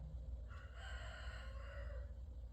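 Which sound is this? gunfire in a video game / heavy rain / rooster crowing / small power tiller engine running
rooster crowing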